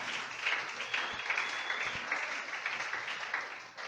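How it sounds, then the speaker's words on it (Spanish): Sparse, hesitant clapping from a church congregation, faint and somewhat distant, fading slightly over a few seconds. "Ese aplauso estuvo como raro"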